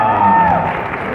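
Applause from a crowd in Querétaro, Mexico, at a public boxing training session, a short burst of clapping heard under a voice that is talking.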